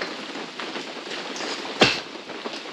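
Rain falls steadily at an off-grid cabin build site while a wall tent is being set up, giving a continuous soft patter with one sharp knock partway through.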